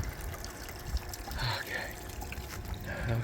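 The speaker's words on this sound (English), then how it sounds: "Gotta put some water in my bird bath too." Water poured into an outdoor bird bath, a soft trickling and splashing stream that swells and fades, faint and close, with a person's voice in the background.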